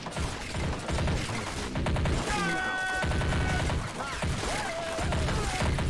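Dense gunfire from the Army Men of War video game, rapid crackling shots and bursts rattling continuously at close range, with whistling tones threading through.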